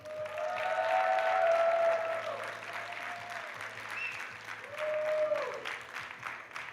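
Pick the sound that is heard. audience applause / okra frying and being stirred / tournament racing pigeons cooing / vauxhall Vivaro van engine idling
audience applause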